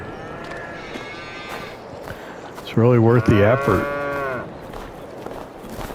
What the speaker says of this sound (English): Let's check, see how the cows are doing.